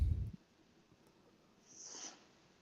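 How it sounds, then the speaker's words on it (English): A person with a cold gives a single short, breathy sniffle close to the mic, following a brief low thump, with otherwise quiet surroundings. "you got the sniffles over there"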